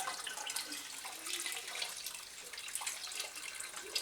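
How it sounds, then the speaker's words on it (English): Water running steadily as a homebrewer rinses out a container used for a 5-gallon Kölsch batch, a continuous hissing splash at modest, close range without pauses or voices. "So let's rinse this out here."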